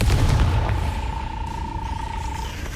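In Hogwarts Legacy, a Confringo fire-blast spell explodes with a heavy boom at the start. The boom fades into a rumbling tail, with a steady ringing tone held underneath.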